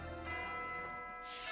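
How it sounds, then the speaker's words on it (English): Church bell tolling inside the video game Fire Emblem Three Houses, a sustained resonant ring with lingering overtones layered over soft game music, steady and moderately loud with no talking. "Well, the bell's still working."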